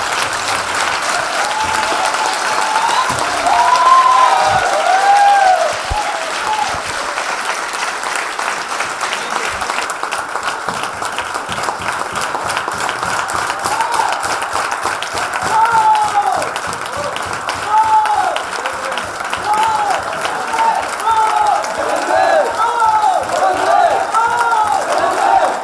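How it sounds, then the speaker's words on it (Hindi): Loud, sustained audience applause with crowd cheering and shouts, steady dense clapping filling the whole stretch close and full. "जोरदार तालियां सर के लिए।"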